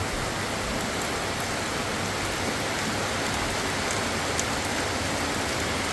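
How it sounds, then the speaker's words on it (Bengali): Heavy rain pours down steadily on a house with a tin roof, a dense, even roar that holds without a break from start to finish. "বৃষ্টি একদম ঝুম বৃষ্টি"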